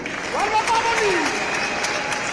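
Crowd at an outdoor political rally for a governor's manifesto launch clapping and cheering under an amplified voice, a steady wash of applause with a rising whoop through the middle.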